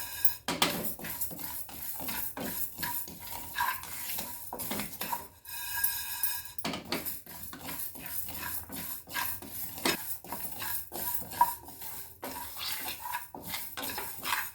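Raw rice being dry-roasted in a pan produces repeated sharp scraping and clinking as a spoon stirs it against the metal, close and fairly quiet, with a faint crackle beneath.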